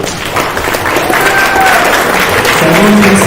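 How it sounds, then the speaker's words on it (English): Audience applause and cheering for robotics teams at the end of a FIRST Tech Challenge league meet match, a steady loud clapping crowd throughout with a few voices calling out. "All right, round of applause for our teams here."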